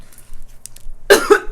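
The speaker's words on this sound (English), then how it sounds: "Y'all, I just got done choking." A person eating thin-crust pizza coughs and chokes in a short, harsh burst of two or three close, loud coughs after a near-silent moment.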